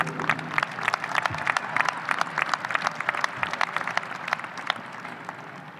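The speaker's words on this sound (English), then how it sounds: "please give them a round of applause as well." A graduation ceremony audience claps steadily for several seconds, a dense patter of many hands at moderate loudness with no speech over it.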